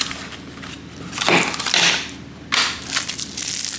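Plastic packaging around stainless steel scraping blades for an oscillating tool crinkles and crunches loudly in two bursts as it is forced open, close up with no voices.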